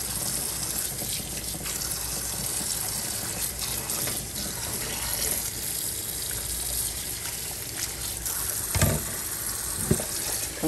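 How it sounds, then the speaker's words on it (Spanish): Kitchen tap running steadily as a container fills with water for cooling cooked food, a continuous close gush with a brief louder splash near the end. "aquí voy a llenar esto con agua para que se enfríe un poquito"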